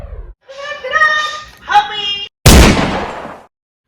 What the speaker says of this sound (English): For context, this is an airsoft gun